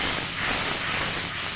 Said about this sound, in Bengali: এবার আমি এখানে সামান্য জল দিয়ে দেবো, বেশি জল দিচ্ছি না, অল্প জল দেব।